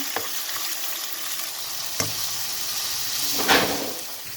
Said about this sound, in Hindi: चिकन को तब तक पकाएंगे जब तक इसका कलर चेंज नहीं हो जाता, इसको फ्राई करेंगे